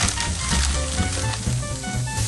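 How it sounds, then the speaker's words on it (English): Close, steady sizzling of burgers on a hot grill, a dense crackling hiss that carries on without pause and with no voices. "You start throwing them on the grill. You want to hear that sizzle."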